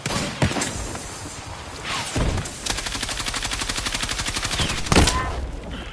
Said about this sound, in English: Throwing thousands of rounds per minute with an LMG down that way